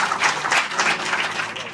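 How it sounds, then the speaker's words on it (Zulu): A church congregation at a Passover convention claps together in steady, dense applause, close and continuous. "ngicela nimshayele ihlombe elikhulu lapha eSafana"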